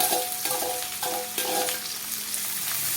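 Onions frying in coconut oil in a pan for a savory kozhukattai, a steady close sizzle with occasional stirring scrapes and crackles throughout, no voices.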